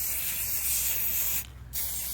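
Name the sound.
spraying non-yellowing UV-resistant sealant spray on plastic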